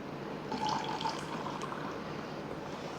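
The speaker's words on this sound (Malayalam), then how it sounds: "കുറച്ച് വെള്ളം കൂടി ഒഴിക്കാം." Water is poured into a carrot, beetroot and honey juice mix in a kitchen, giving a steady, moderately loud liquid splashing that lasts the whole moment without talk.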